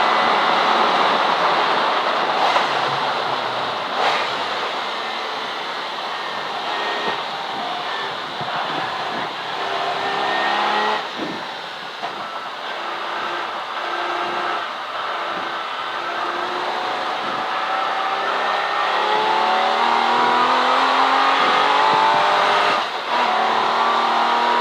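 A V12 race car engine howls around Silverstone circuit during a CSCC Modern & Future Classics race, heard from on board as a loud sustained wail rising and falling through gear changes and throttle lifts, continuous throughout.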